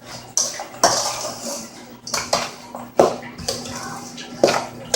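Creamy broccoli salad stirred in a bowl, with repeated clacks and scrapes of a utensil against the dish in an irregular rhythm, close and fairly loud, over a low steady hum.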